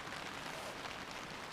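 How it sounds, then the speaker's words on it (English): Steady rain falls in cold, wet wilderness along the Anarjohka during a solo packraft expedition, a dense, even hiss with no break and no voices. "It's always raining."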